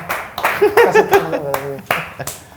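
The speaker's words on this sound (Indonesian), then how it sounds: "Tepuk tangan buat yang tepuk tangan." A few scattered hand claps from a small audience on an Indonesian music talk show, sharp and close, mixed in with ongoing conversation and voices.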